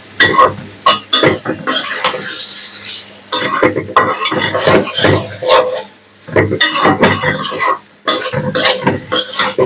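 A metal spoon stirs and scrapes mustard hilsa fish masala frying in a pan, loud clattering bursts with brief pauses, close and busy, with a voice talking underneath.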